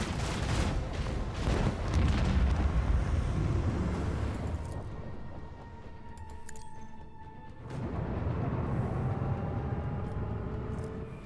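Macro cannons aboard a starship in Rogue Trader fire in a rolling volley of heavy booms and blasts for several seconds, then fade before another rumbling swell.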